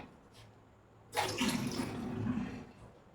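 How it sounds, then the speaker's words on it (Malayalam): Drained water is poured off from salted fish set out to dry, starting abruptly after a quiet second as a close, steady splashing gush that runs to the end. "ഈ വെള്ളം കളഞ്ഞിട്ട് വെക്കാം നമുക്ക് കേട്ടോ വെള്ളം ഒന്ന് കളയാം"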